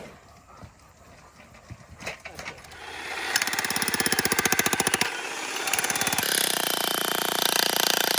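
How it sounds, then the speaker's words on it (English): A jackhammer pounds into rocky ground, digging foundation holes for a backyard garden house: quiet rustling first, then the engine revs and hammers in loud, rapid continuous bursts with a short pause between runs. "I guess I'll pull this jackhammer up to the garden house and dig some of the holes for the foundation"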